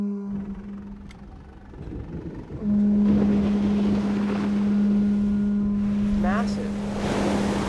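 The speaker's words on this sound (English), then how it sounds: "That's what a good engine sounds like." Boat engine warming up at Teahupo'o in Tahiti, a steady droning hum that starts softly under wind noise and then runs loud and constant, with brief voices over it.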